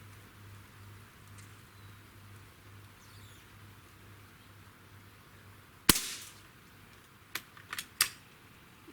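Beeman AR2078A CO2 target air rifle firing once, a sharp close crack with a short tail, followed by a few lighter clicks and knocks, over a steady low hum.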